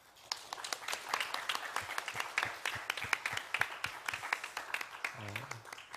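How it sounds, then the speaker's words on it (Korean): A congregation at a Saturday prayer meeting claps for one another in encouragement, producing steady, fairly close individual handclaps with a voice heard briefly near the end. "우리 서로에게 한번 격려의 박수 한번 보내주면 어떨까요?"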